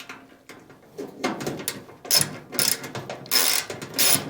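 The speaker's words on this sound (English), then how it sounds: "as I'm unscrewing this bolt" A bolt is unscrewed on a clothes dryer panel: a series of ratcheting, clicking metal turns with short bursts and pauses, fairly close and growing louder toward the end.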